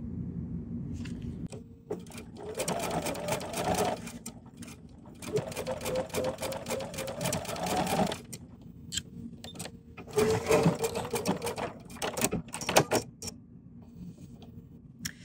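A sewing machine fitted with a patchwork quarter-inch foot runs in several bursts of steady rapid stitching, stopping and starting with short pauses and small clicks between runs, close and moderately loud.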